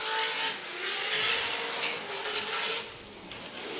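A race car at a championship run loops around with its tires skidding, a loud sustained squeal and engine roar rising and falling across the whole stretch, with no talk over it.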